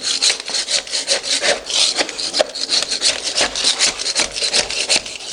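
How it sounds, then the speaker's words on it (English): A small hand scraper rasps over an old stair tread, scraping off rubber tread residue in quick, loud, close back-and-forth strokes with no talking. "this little hand scraper is awesome for stuff like this"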